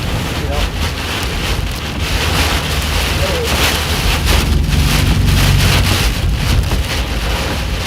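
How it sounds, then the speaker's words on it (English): Strong wind roars steadily into the microphone during a supercell tornado chase in Iowa between Waterloo and Cedar Rapids, a loud continuous buffeting rush that fills the whole stretch with no break. "Big wind, big wind."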